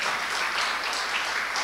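A congregation at a Spanish-language church service applauds for the Lord, a thick, steady wash of clapping that stays loud and unbroken.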